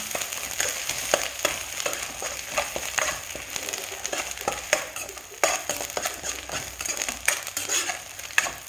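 Ginger garlic paste sizzles and fries in a pan for an egg and rice dish, a steady crackle with repeated scraping and stirring clinks from a utensil against the pan.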